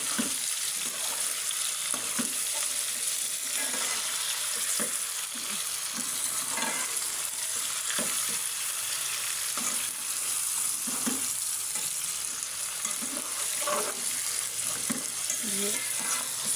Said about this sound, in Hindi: इस तरह डाल के इसको अभी अच्छे से फ्राई कर लूँगी।